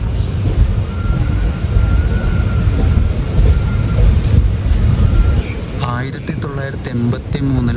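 A train rolls off the main line into the loop at Irinjalakuda railway station, a loud steady rumble and rattle of wheels with faint squeal, easing near the end into clicking and clanking over points.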